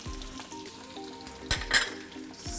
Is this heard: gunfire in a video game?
no